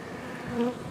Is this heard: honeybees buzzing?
yes